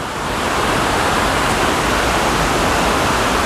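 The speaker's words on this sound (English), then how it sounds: "real nice waterfalls. They say it's the second highest waterfall in Vermont." Outdoors on a hiking trail, a tall Vermont waterfall, second highest in the state, roars with a dense, constant hiss of rushing and crashing water, loud and unbroken with no voices.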